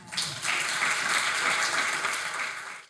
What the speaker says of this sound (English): We have one more round of applause for Avery Lee Marcellis for me.